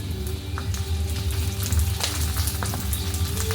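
Green chillies hitting hot oil in a home kitchen pan sizzle with a steady, bright crackle and small popping spatters, close and continuous, with no voices.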